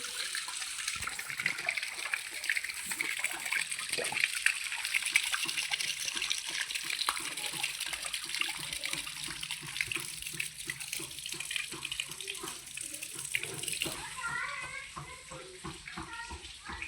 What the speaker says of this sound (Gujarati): પાણી ચાલુ કરી દીધું